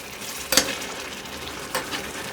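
A spoon stirs cowboy beans with sausage in a pot, a soft steady simmer broken by two brief scraping clatters, close and moderately loud with no talking.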